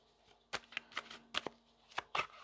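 Oracle deck cards being shuffled by hand during a tarot-style reading, a series of crisp riffling bursts in an uneven rhythm, close and moderately loud with no talking.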